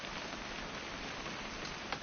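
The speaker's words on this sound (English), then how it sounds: "It's gonna rain the whole weekend" Steady rain in the video game What Remains of Edith Finch hisses evenly throughout at low volume. The patter is constant, with no voices over it.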